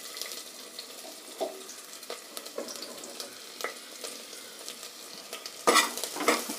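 Onions frying in hot oil with cinnamon, cloves and a bay leaf while being stirred, a soft sizzle under occasional utensil scrapes and clinks, heard close with no talking.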